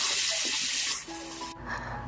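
Water runs from a tap while a small plastic toy figure is washed with soap, a steady hiss that drops in level partway, then gives way to quieter splashing and handling, close by.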